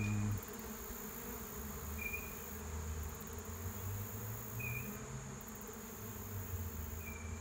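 A swarm of absconding honey bees flies overhead, a dense continuous buzzing drone with slight swells as insects pass near, steady and unbroken, with no talking.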